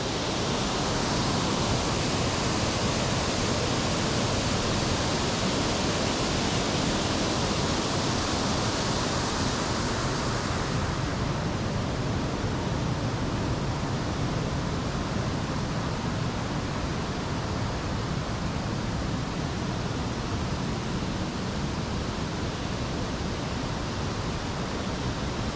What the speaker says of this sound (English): Let's look at these cascades here.